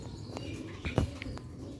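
A racing pigeon in a Sialkot fancier's loft gives a short, soft coo near the middle of a brief stretch of quiet background noise, with a few faint chirps around it and no talking.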